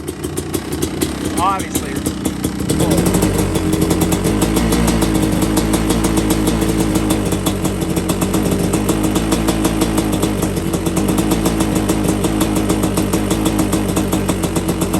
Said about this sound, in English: Like it idles good.